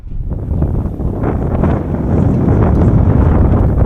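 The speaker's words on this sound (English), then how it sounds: "We're out in Awning and the wind is blowing a little bit" Wind gusts outdoors beside a Fiamma F45 awning on a Crusader Hurricane caravan, buffeting the microphone in a loud, rumbling roar that strengthens toward the end.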